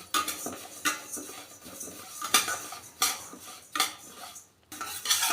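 Metal spoon scraping and clinking against a pan as moong dal is stirred and roasted without pause, a steady run of close, loud strokes with no voices.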